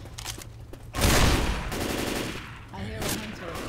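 Gunfire in Left 4 Dead 2: close, loud bursts of shots, with a heavy volley in the middle and more shooting after it, mixed with game sounds and what looks like brief voices.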